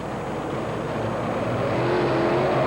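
Monster truck engine roaring steadily at the 1991 USHRA Super Trax race in the Houston Astrodome, a loud continuous drone with a slight rising pitch, heard from a distance through the arena.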